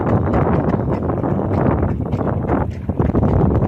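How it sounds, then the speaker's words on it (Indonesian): Strong wind roars steadily across an open salt-making site under hot sun, a loud continuous broadband rush with gusty swells and no voices. "Anginnya cukup kencang, panasnya juga cukup panas, jadi cocok untuk membuat garam."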